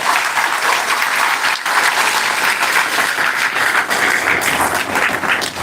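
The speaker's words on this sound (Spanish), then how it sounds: "Dale un aplauso a Cristo si lo quieres hacer." A congregation at an inaugural church service of Misión Gracia y Paz in Lima, Peru applauds Christ, loud sustained clapping from many people, dense and continuous throughout.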